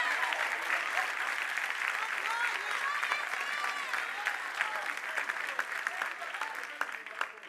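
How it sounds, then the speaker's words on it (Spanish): A church congregation bursts into loud, sustained applause with scattered cheers, the clapping dense and continuous while a voice speaks faintly beneath it. "Aplauda bem forte a Jesus."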